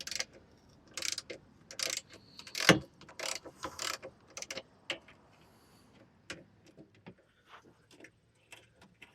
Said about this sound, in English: I'm just going to go slow, get the 2 front bolts to crack loose